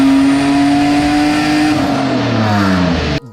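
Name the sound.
loud straight-piped Nissan 350Z flying by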